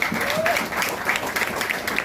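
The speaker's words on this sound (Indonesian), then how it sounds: "tepuk tangan dulu teman-teman" Audience at a talk on Indonesian authoritarianism claps briefly and steadily, a dense, moderately loud patter of many hands.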